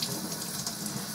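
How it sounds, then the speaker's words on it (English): Tap water runs steadily into a sink while a brass cornet part is washed with dish detergent, a continuous close rushing splash with no talking. "The instructions said to wash it off with some dish detergent, so I'm going to do that."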